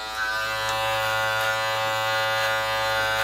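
Electric beard trimmer fitted with a 6 mm guard, cutting beard hair: a steady, close, loud buzzing hum that holds evenly throughout with no talking.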